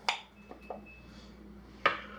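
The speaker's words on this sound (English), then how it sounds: "Let's open the jar." A glass jar of pasta sauce is opened with a couple of sharp metallic clinks and a small click, close and quiet against a low room hum.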